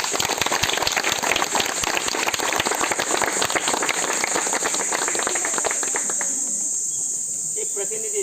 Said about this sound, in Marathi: एकदा सातपुते गुरुजींसाठी जोरदार टाळ्या होऊ दे